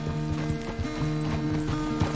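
Horse hooves clip-clopping at a walk in Red Dead Redemption 2, steady rhythmic thuds over a low game music drone.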